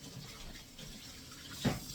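A brief burst of water splashing from a kitchen tap, faint and short over a quiet room.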